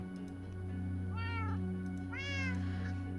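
In a video game, cats give two clear, drawn-out meows about a second apart over a steady low background hum.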